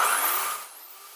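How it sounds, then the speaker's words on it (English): Power tool powered by an Allpowers S1500 portable power station, a loud high-pitched whine that spins down steadily, fading in pitch and volume over about a second with no voices. "Power tool."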